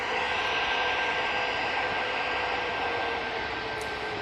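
An EasyJet airplane at Manchester Airport, a steady loud broadband roar of jet engines with a constant high whine, continuous and unbroken from start to end.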